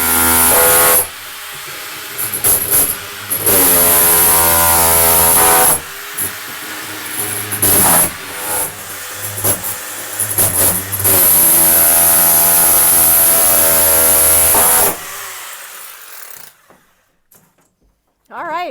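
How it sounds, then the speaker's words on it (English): Power tool shearing rivet heads off the metal walls of a school bus, with loud sustained whining, screeching bursts separated by short pauses and harsh metallic grinding, close and dominant until it stops near the end. "Shearing the heads of the rivets off."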